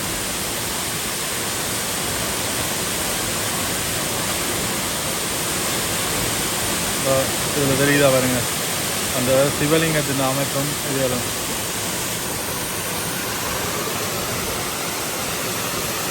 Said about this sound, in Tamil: இந்த நீர்வீழ்ச்சி இந்த பகுதியில் பாருங்கள்